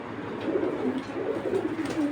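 Soft, low pigeon coos repeat in a steady murmur, close by, with no talking.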